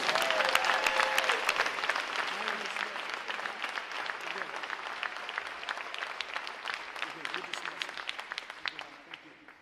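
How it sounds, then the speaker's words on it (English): An audience at a Navy ROTC graduation ceremony applauds, loud at first and gradually thinning into scattered claps as it fades, with some crowd voices mixed in. "let's give them another round of applause"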